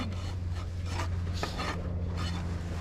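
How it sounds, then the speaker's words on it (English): A rasp files the edge of a horse's hoof, beveling and rounding it, in quick repeated scraping strokes close up over a steady low background hum. "use the fine side of your rasp when you're just sort of tying in your These things? bevel and round"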